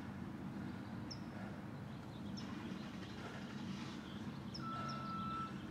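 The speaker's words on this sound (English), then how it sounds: "Got a lot of sounds around here today. Backing up trucks, kids running around." Trucks backing up in a public park send out repeated high reversing beeps over a steady low rumble of traffic and outdoor noise.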